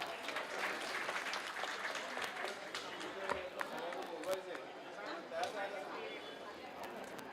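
Audience at an award ceremony applauds to welcome a guest, a steady wash of clapping from a crowd at moderate distance, with voices murmuring beneath it.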